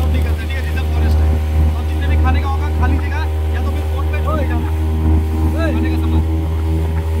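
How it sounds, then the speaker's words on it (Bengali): Loud, steady drone of a motorboat engine on a ride to Baratang in the Andaman Islands, with rushing water and wind and people talking over it throughout. "9 কিলোমিটার বোট রাইডিং"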